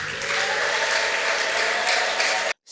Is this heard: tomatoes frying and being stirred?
no